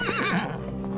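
A horse whinnies in a loud, close, wavering neigh, followed by a trailing tail as the call fades over about a second, heard alone as a sound effect.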